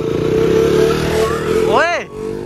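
A KTM Duke 200 motorcycle idles loudly close by, then revs sharply in a quick rising-and-falling burst before settling again, with a voice speaking over it.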